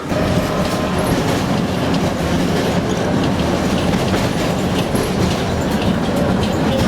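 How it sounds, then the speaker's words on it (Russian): Pyatigorsk tram rolling along its rails, a steady loud rumble with continuous clattering of wheels over track joints and faint squeals, heard up close throughout with no talking. "как вам пятигорский трамвай?"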